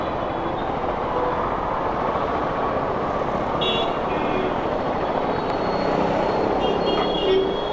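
A Husqvarna Svartpilen 401 motorcycle rolls along in a steady, dense rumble mixed with wind roar, the noise holding at an even level throughout.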